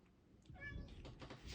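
A house cat named Miss Kitty meowing nearby, a drawn-out plaintive call followed by a couple of shorter mews, fairly quiet and alone.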